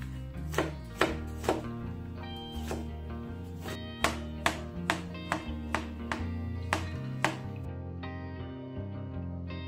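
A knife chops apple and banana on a board for porridge, with a series of crisp, close thunks, first spaced and then in a quicker run, over soft background music.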